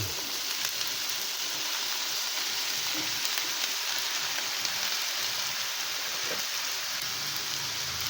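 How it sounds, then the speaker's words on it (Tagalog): Vegetables for ginataang gulay hit a hot pan and fry with a steady, even sizzle that holds at close range for the whole stretch, with no voices. "At isunod na rin natin itong ating mga gulay."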